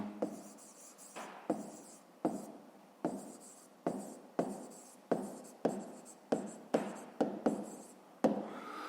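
Pen or chalk writing out a math solution by hand: a series of short, crisp scratching strokes in an irregular rhythm, close and fairly quiet, with no talking.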